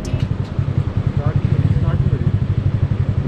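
A motorcycle on a mountain road tour in the Himalayas cranks over with a rapid, rhythmic chugging and clattering that never catches, loud and close throughout.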